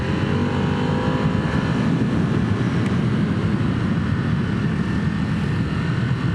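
Ducati Hypermotard 950 SP motorcycle engine accelerating hard on a country road, a loud continuous roar with rising pitch mixed with heavy wind rush.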